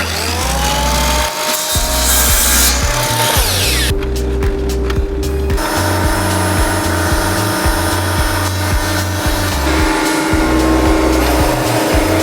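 A wrought iron bar being cut into 30 cm pieces with a power saw, giving a loud, continuous grinding whine with pitch sweeps and brief pauses between passes, close up and without speech.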